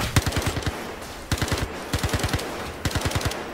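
Rapid bursts of gunfire in the sci-fi shooter Star Citizen, a pistol fired in quick strings of five or six shots, repeating four times with short pauses, sharp and fairly close.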